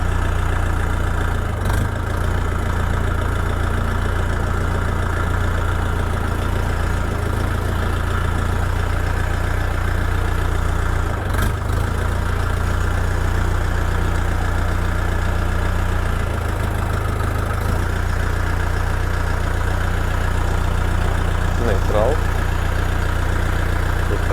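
A 2024 Dongfeng 404 DG2 mini tractor's small diesel engine idles steadily with a low, constant rumble, close and loud throughout, with a few faint knocks and clicks.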